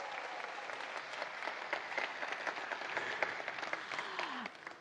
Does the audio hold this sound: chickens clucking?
no